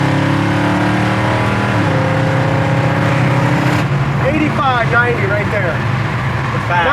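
A 1955 Chevy with a small-block V8 revs hard and climbs through the gears, its engine note rising and then dropping sharply at a shift before pulling again, loud and close, with people talking over it.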